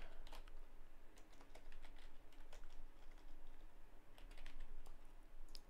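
Quick, irregular clatter of typing on a computer keyboard while entering a name, continuous and fairly soft against a steady low background hum.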